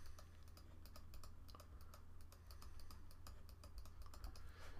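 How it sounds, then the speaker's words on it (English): Rapid, irregular clicking on a computer while painting in Sumo Paint, crisp and close, with dense little bursts of clicks running on steadily and no voices. "Just clicking away here."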